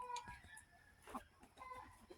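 Chickens clucking softly at a distance, a few short broken calls over a low background murmur, faint and brief.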